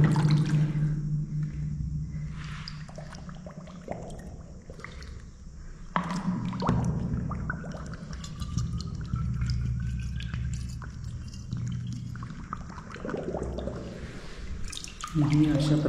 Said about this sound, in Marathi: ही अशा प्रकारे आपली पाण्याची बॉटल भरून झाली.